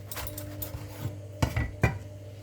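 A knife saws through a hot cheese and onion toasted sandwich made in a toaster, giving a few crisp crunching scrapes close up over a low steady kitchen hum, with dish and cutlery clatter.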